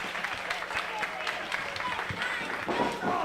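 Crowd noise at a wrestling show, a steady roar of cheering and applause with bursts of clapping filling the arena, while a commentator's voice runs over it.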